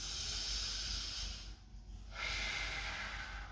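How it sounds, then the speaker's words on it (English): A slow, close breath drawn in and pushed out with an airy hiss, a brief pause, then another breath starting. "Feel the way you're breathing."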